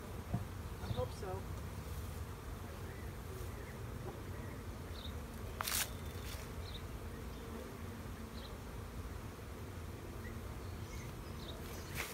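A honeybee swarm hums in a faint, continuous drone outdoors, with occasional nearer buzzes passing by and a few soft knocks.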